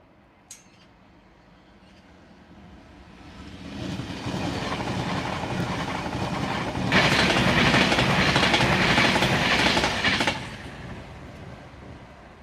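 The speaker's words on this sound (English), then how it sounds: "Another Pendolino here." A Pendolino tilting train sweeps past, its rushing wheel and body noise swelling from a quiet start to a loud, sustained roar that peaks midway and then drops away as it clears.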